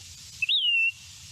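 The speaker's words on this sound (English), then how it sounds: "every Say's Phoebe I've ever heard sounds just like that" A single Say's Phoebe call rings out on a spring birding walk in a gulch, one clear, fairly faint whistled note that rises then slides gently down, over a soft outdoor background hum.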